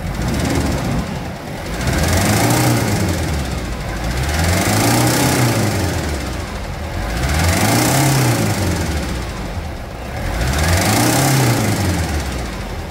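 A Hilux engine fitted in a Toyota Land Cruiser Prado is revved repeatedly in a workshop, loud and close, with four rising-and-falling swells of engine roar over a rough idle.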